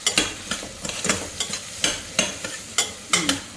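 Cauliflower pieces cook in a pan as turmeric is stirred in, a spoon scraping and knocking in a quick irregular rhythm over a soft sizzle, close and fairly loud.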